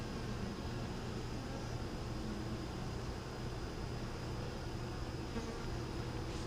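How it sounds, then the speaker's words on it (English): Honeybees drone in a dense, steady hum over a hive frame, close up and continuous with no pauses or voices. "You can see plenty of bees there."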